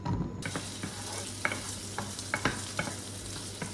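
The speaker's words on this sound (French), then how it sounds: "là je vais faire revenir le chorizo dans une poêle, comme ça va lâcher tout le gras" Chorizo sizzles steadily in a frying pan as it releases its fat, with a constant close crackle and occasional sharp taps and scrapes from stirring.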